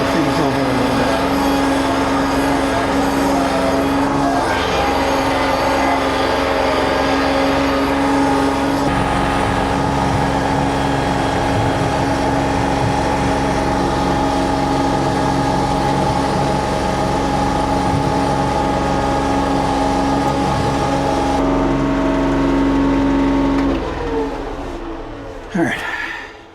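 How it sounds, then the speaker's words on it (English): Engine of a Kioti CK3520SEH compact tractor runs steadily and loud throughout as the machine turns around, a constant low drone with some clanking, then cuts off near the end. "I'm going to turn the tractor around and try to smooth things over a little bit."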